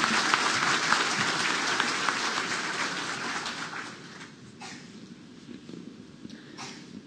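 A conference audience applauds a speech on financial inclusion in Santa Catarina, Brazil. The dense, sustained clapping thins and fades toward the end, leaving a few scattered claps.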